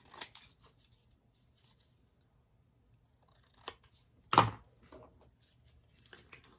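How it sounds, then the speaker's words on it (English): Scissors snip through paper while a layered, upcycled vintage journal tag is trimmed to size, giving a few quiet crisp cuts and one sharper, louder snip in an otherwise quiet room. "so let's cut it."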